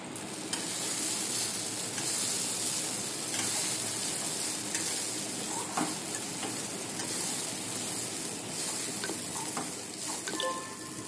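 Soaked poha stirred into a hot frying pan for a quick Maharashtrian poha, with steady sizzling and frying hiss and a spoon scraping and stirring throughout, close and continuous with no talk.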